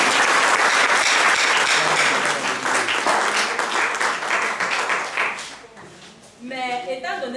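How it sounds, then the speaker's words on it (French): Audience applause at a nutrition literacy event in Bafoussam, a dense burst of clapping from a crowd that gradually thins, with a voice speaking over it near the end. "Donc je vous prie de la réserver un tonnet d'applaudissements s'il vous plaît."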